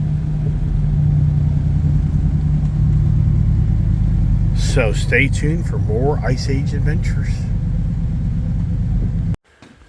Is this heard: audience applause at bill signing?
no